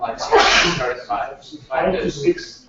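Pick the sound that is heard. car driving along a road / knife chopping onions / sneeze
sneeze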